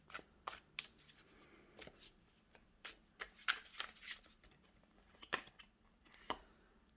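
Oracle cards being shuffled by hand in quick, crisp riffles and flutters, a run of sharp papery bursts close up with no talking.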